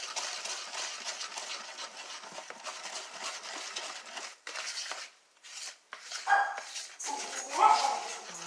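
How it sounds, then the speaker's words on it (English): Small dogs yip and whimper in bursts toward the end, over a steady kitchen-like background noise, fairly close. "it wouldn't be my house without Sarah or Brinkley barking, right"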